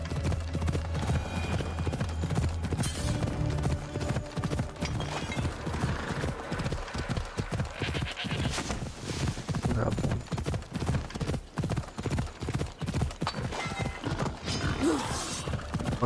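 A horse gallops in Assassin's Creed Odyssey, with steady rapid hoofbeats throughout, a whinny near the end, and dense game sound mixed underneath.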